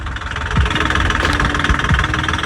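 A boat engine runs after a fuel filter fix, a steady loud mid-pitched drone with rough rattling vibration and faint knocking pulses throughout, heard close with no talk over it.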